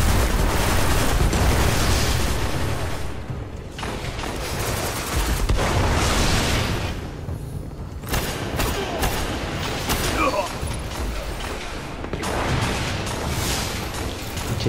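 Gunfire from the player's gun in the shooter game Destiny, Crucible mode, sounds as loud, dense bursts of shots and booms that continue through the whole stretch with brief lulls, mixed with game effects and talk.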